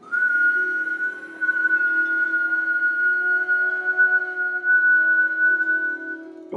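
A steady, sustained whistling tone from breath during a Kundalini yoga pranayama exercise, held evenly for several seconds at close range with no talk, ending abruptly.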